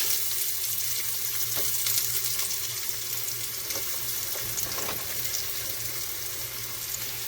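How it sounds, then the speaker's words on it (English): Onions frying in hot oil in a home kitchen, giving a steady, dense sizzle that holds evenly throughout, with faint stirring knocks, close and fairly loud with no talking. "what I'm going to do is I'm going to take the onions and I'm going to put them in first"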